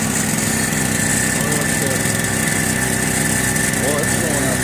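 A small generator engine runs steadily in a close, enclosed space, a constant buzzing drone with a high whine on top, while people talk over it.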